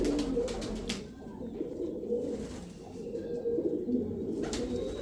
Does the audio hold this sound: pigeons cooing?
yes